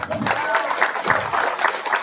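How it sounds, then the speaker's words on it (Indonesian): Audience at a Maulid Nabi religious lecture claps for about two seconds, a steady patter of hands mixed with voices and calls from the crowd. "Tepuk tangan, tepuk tangan."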